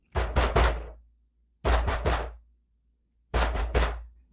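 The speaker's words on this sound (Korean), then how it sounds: "곧 문을 두드렸다오." Three separate bursts of knocking on a door, each a quick cluster of three or four loud, close raps, separated by short silent pauses.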